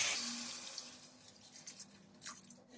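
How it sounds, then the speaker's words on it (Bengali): Water is poured into a pan of fried cauliflower and potato curry. A short, soft hiss of liquid is followed by faint splashing and sizzling, all quiet and close. "এবার পরিমাণ মতো জল দিয়ে দেব"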